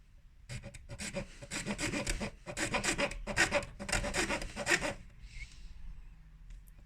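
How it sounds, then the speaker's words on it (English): A hand saw cuts through plastic, rasping back and forth in a quick, steady run of strokes, close and fairly loud, then stops. "keep checking it to make sure you're not sawing too much into the plastic"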